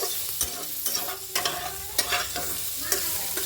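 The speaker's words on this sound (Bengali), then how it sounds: "ফুলকপিটাকে একটু তেলে আমি নেড়ে নিচ্ছি" Boiled cauliflower being stirred in hot oil in a pan: a steady gentle sizzle broken by a series of sharp spatula scrapes and knocks at an uneven pace, close up with no talking.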